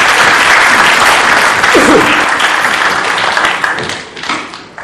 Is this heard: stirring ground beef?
no